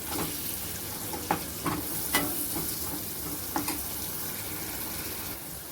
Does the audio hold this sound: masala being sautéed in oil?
yes